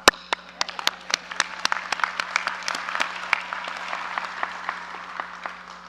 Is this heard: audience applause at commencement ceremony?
yes